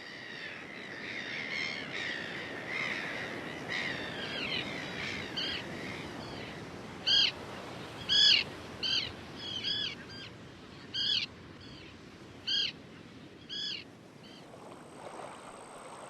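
Gulls and terns call in short, repeated squawks over a soft wash of water and wind at Cassino Beach, Brazil, the cries clustered midway and fairly close.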